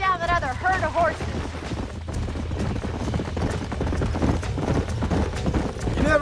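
Horses gallop in Red Dead Redemption, hooves drumming in a fast, steady rhythm close by, with a brief whinny at the start and voices talking over the pounding.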